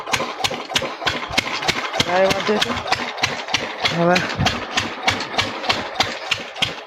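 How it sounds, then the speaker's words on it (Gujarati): A farm machine engine used for mustard harvesting runs in a field with a steady, rapid chugging beat, loud and close, while someone speaks over it. "મશીન ચાલુ કરીએ, પેલા મશીન ચાલુ કરી લે"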